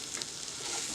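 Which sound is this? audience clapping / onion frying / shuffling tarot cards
onion frying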